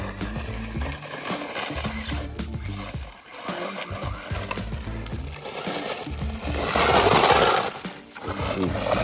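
A WLtoys 144010 brushless RC buggy on off-road tires spins up on gravel, a loud whirring motor over crunching, spraying stones that swell to a burst of hiss near the end.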